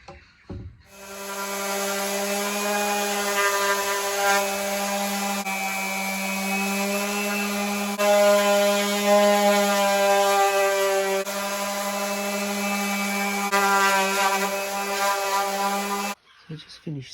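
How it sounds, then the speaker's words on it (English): A power tool sanding rails, a loud, steady whirring with a buzzy tone that runs continuously for about fifteen seconds, then cuts off abruptly. "So I just finished sanding, so my first one's done."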